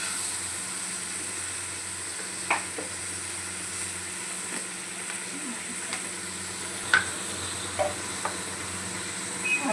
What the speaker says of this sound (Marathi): त्याला चांगलं एक मिक्स करूया